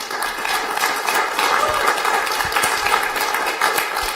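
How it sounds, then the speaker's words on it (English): An audience at an Innovation Cafe event in Eindhoven applauds the speakers, a steady, full wash of clapping that holds evenly throughout. "give a big applause for our speakers and their great work"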